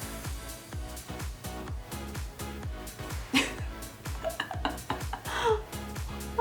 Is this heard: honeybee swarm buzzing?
no